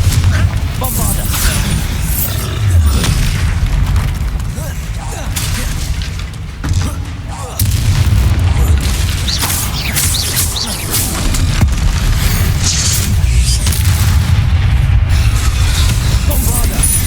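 Bombarda and Confringo spells explode repeatedly in the Hogwarts Legacy video game inside a coastal mine. Loud booms and bursts pile up over a dense rumbling din, with brief voices mixed in.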